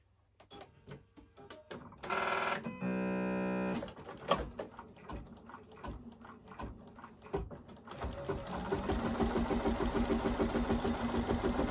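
An embroidery machine stitches an in-the-hoop zombie face mask, starting with a few clicks and beeps, then a steady rapid mechanical chatter that grows louder and denser toward the end, close by with no talking.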